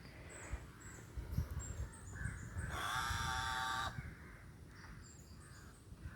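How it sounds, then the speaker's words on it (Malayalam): A crow gives one long, loud, close caw midway, with fainter bird calls and outdoor noise around it and no talking. "ഇവിടെ ഇവിടെ എത്താൻ വിളിക്കുന്ന കാക്ക"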